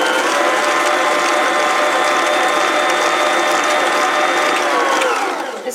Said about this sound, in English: This is one of the reasons I love this mixer so much, is it incorporates things so quickly and thoroughly.